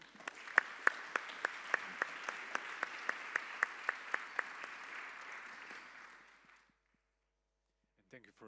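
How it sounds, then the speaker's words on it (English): Audience applause for conference panelists fills the room for about six seconds, a dense even clapping that stops abruptly, with a few sharp louder claps standing out near the microphone. "our panelists deserve a round of applause"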